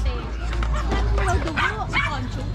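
A dog yips and whines excitedly close by at a beach resort birthday gathering, mixed with people talking over a low rumbling background.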